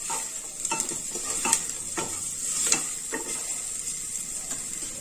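Vegetable oats with turmeric and chili are stirred in a hot pan: a steady bright sizzle with several scraping spoon strokes and soft clicks, close and clear, no voices.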